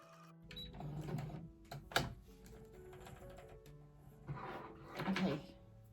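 Sewing machine fitted with a walking foot stitching crocheted granny squares together, quiet mechanical whirring in short bursts with clicks between runs, heard close at low level.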